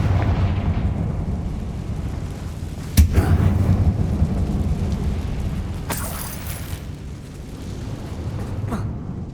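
Confringo blasting spell in the video game Hogwarts Legacy, set in a mine, one sharp explosion burst followed by rumbling debris, then a second crackling blast a few seconds later over low ambient drone.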